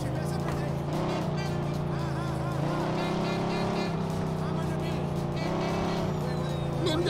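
Car driving in Mafia II, a steady, loud engine drone with shifting revs and tire noise throughout, close and continuous, with voices talking over it.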